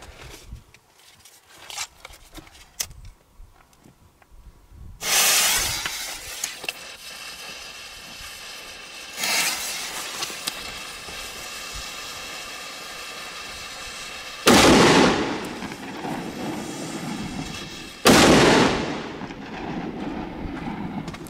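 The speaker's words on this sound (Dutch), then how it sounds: "Het zijn heerlijke knalletjes, als je het mij vraagt." Several loud firecracker blasts go off a few seconds apart in Spain, each a sharp crack that rolls into a long echoing rumble before fading.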